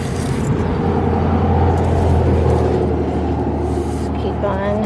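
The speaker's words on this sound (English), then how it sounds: "Cars driving by here." Cars pass on a nearby road with a steady, rumbling traffic drone that stays loud throughout, while a person talks over it.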